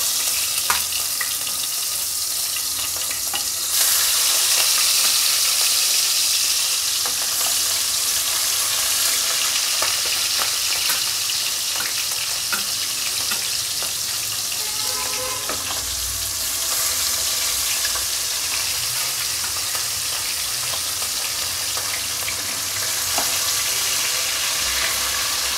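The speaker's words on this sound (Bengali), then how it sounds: "মাছটা এখন ভেজে নেব।" Fish frying in a pan in a home kitchen, a dense, loud, continuous hiss and crackle that stays steady throughout, heard close with no talking.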